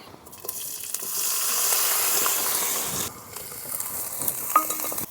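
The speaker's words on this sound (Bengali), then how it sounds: "এবার দিয়ে দেব চিংড়ি মাছ।" Prawns hit hot oil tempered with dried red chillies and black cumin, a loud sizzling hiss that swells, drops off sharply, then resumes with light stirring clinks.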